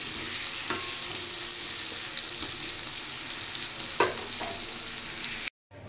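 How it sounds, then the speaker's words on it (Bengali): Potato pieces frying in hot oil give a continuous close sizzle with a few stirring clicks, then it cuts briefly to silence near the end. "এবার আলুগুলো ফ্রাই করে নিচ্ছি।"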